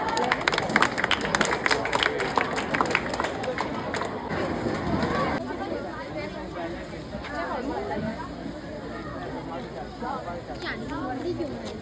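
Applause and chatter from an audience at a school science exhibition, a dense burst of clapping early on that thins into crowd babble and voices talking throughout.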